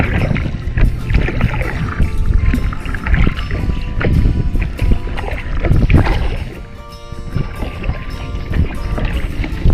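Small wooden boat moving on water, with steady splashing, water churn and wind buffeting close to the microphone throughout.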